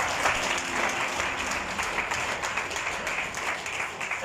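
A crowd gives a burst of loud, dense applause, continuous clapping that stays strong throughout with a little background voice.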